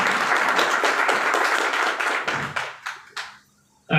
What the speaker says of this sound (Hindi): तो जोरदार तालियां होना चाहिए हमारे डॉक्टर आके कुशवाहा सर के लिए